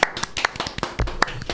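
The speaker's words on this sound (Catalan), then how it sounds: "Un aplaudiment per ells." A handful of people clap for guests on a Catalan talk show set in an attic studio, giving short, scattered bursts of hand claps rather than a sustained ovation, close and moderately loud.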